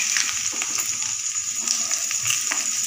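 Rice sizzling and frying in a pan with cardamom, cinnamon and cloves for Basanti Polao, a steady close hiss with light crackles and occasional stirring scrapes.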